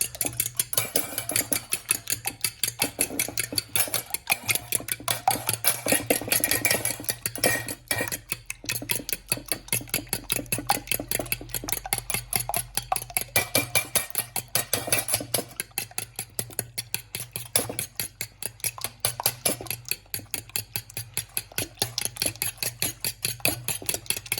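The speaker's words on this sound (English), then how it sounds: "you want to take a fork or a whisk if you have it. I would rather prefer a fork. And you want to beat the eggs" Eggs beaten with a fork in a bowl for an omelette, producing rapid, steady clicking and tapping strokes repeated throughout, close up and without speech, over a faint low background hum.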